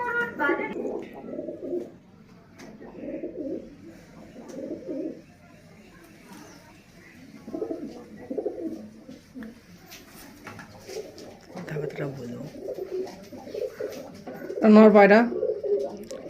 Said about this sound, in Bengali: একদম ছোট ছোট পায়রা এগুলো